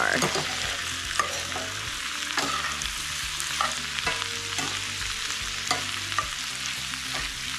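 Steady sizzling and frying of cabbage crisping in a pan with periodic scraping and stirring clicks, close up, no voices.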